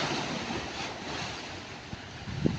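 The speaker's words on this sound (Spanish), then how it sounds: "Aquí rompen las olas y se escucha bastante fuerte." Sea waves break at the port of Veracruz, a steady broad wash of surf with wind buffeting the microphone and a few louder splashes near the end.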